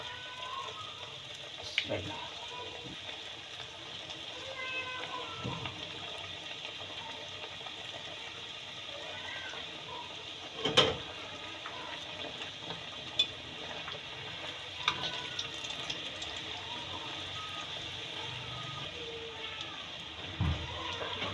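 Moong dal kachori frying in a small kadhai of hot oil over medium heat gives a steady, faint sizzle throughout, with a few soft clinks, while someone talks over it.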